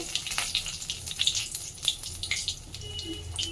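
Bay leaves and whole cumin seeds sizzle in hot oil for a Bengali bhetki fish curry, giving a close, steady frying hiss with small crackling pops scattered throughout.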